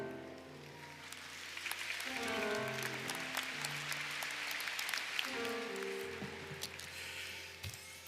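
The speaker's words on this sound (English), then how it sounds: "Can we give them another round of applause, please?" A crowd at a university baccalaureate ceremony applauds, a dense, sustained patter of many hands heard from within the hall over background music.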